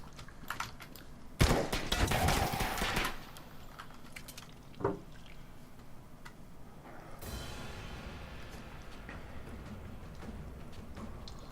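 Rifle fire in the video game Alone in the Dark: Illumination: a loud burst of rapid shots lasting over a second, then a single sharper report, set against a low ambient game background.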